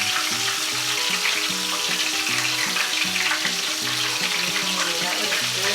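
Chicken pieces frying in hot oil for a fried chicken sandwich, a loud continuous crackling sizzle, close and steady, with faint music underneath and no talk.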